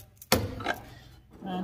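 A dead blow hammer gives a single short, sharp knock to a billet aluminium carriage stop on an Atlas lathe, close by, followed by a quieter thud and a low hum.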